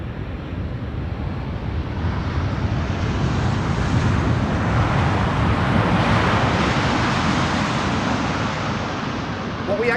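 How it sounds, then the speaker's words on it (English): A KLM Boeing 777-300 arriving at Amsterdam Schiphol from Willemstad, Curaçao, makes a steady broadband engine roar that swells and fades slightly, with wind rumble and no clear talk. "This is KLM flight 736, arriving from Willemstad, Curaçao, 777-300."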